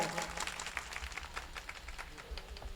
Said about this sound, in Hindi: इसे तालियां बजाइए